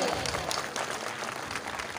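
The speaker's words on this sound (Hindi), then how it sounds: "इसलिए इनके लिए एक बार तालियां बजाओ महिलाओं के लिए।" A crowd of seated women at a village gathering in Bulandshahr claps in a dense, steady burst of applause, fairly distant and continuous for the whole moment.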